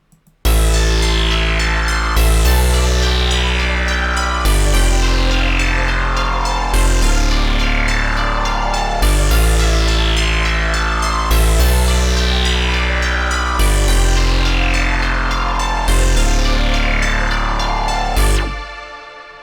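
An electro synthpop bass patch built in NI Massive plays alone and loud, a sustained buzzy synth bass with a filter sweep that falls on each repeated note, about every two seconds, then stops abruptly.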